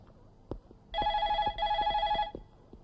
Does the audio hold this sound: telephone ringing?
yes